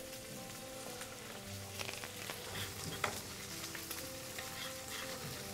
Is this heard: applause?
no